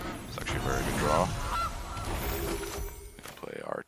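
Goose honking effect from the video game Magic: The Gathering Arena, a few quick nasal honks in the first half, layered over busy game sounds and chimes.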